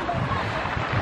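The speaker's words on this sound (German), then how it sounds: "schaut euch diese Wellen an" Mediterranean surf breaking on the shore near Nice, a loud, steady wash roughened by wind buffeting the microphone, with no clear gaps between waves.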